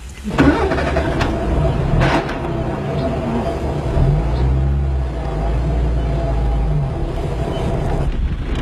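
A car engine turns over and catches, then settles into a steady low idle running through most of the clip, with people speaking over it.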